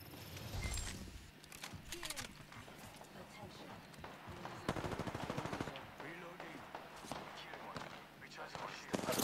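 Gunfire in Apex Legends, with repeated bursts of rapid automatic shots and scattered single cracks over busy game sounds, mixed under voices talking.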